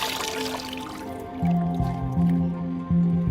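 Handfuls of wet, freshly dyed shuttlecock feathers wrung out by hand in a factory, giving a few close, rhythmic squelching squeezes with dripping water, each squeeze about a second long, no voices.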